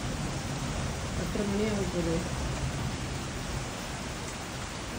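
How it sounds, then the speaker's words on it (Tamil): Heavy rain pours in a dense, steady hiss that fills the whole clip, with a brief voice speaking faintly beneath the downpour. "ரொம்ப சரியான மழை."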